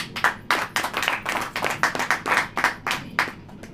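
Congregation at a church service clapping along in a steady rhythmic beat, loud and close, with no talking over it.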